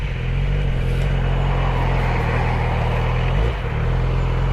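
Motorcycle pulling away from a junction as the clutch is let out with a little throttle, a loud steady engine drone close by, briefly dipping in pitch near the end, with no talk.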